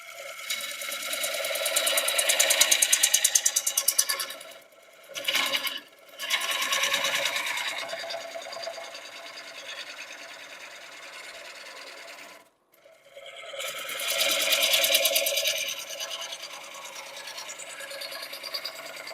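A lathe turns a wet walnut blank as a tool cuts heavy shavings, a rhythmic buzzing, rasping whir in long passes, with two brief pauses and a sharp drop in between, close and loud.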